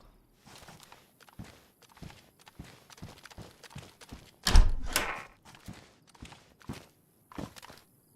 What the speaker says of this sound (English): I thought I just heard a footstep.